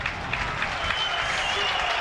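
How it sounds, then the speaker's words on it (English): A Burnley crowd applauds at a Premier League football match against Tottenham, a dense, even wash of distant clapping from the stands that fills the moment. "Good applause from the Burnley crowd."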